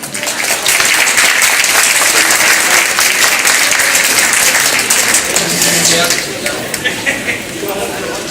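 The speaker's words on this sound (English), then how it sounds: "please give them a round of applause" Sustained, loud audience applause for award winners at an awards program, dense clapping filling the room for about six seconds before easing off, with faint voices underneath.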